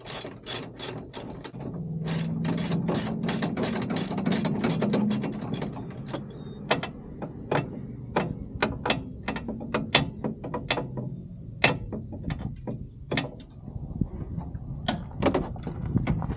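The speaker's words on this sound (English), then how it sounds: "hand ratchet." A hand ratchet loosens a 17 mm bolt on the bottom of a Honda Talon shock, clicking in quick close bursts, then in slower, irregular single ratchet strokes.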